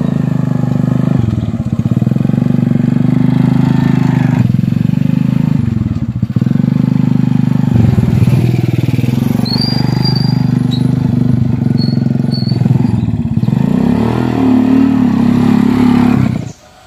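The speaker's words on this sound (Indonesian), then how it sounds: "Itu sa, mau motor ngebut bae." A motorcycle speeding along, heard as a loud, sustained low engine drone that swells and shifts over most of the stretch before cutting off abruptly at the end.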